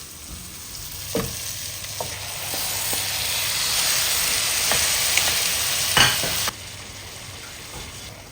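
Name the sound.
chicken searing on high heat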